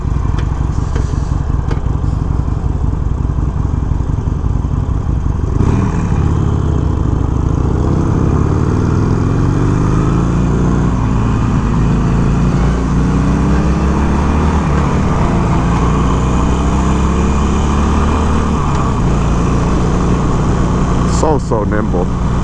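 A 2021 Harley-Davidson Iron 883 runs steadily and loud up close while being ridden, its engine note dropping and climbing as the rider downshifts, with a rough, constant motor drone that fills the whole stretch.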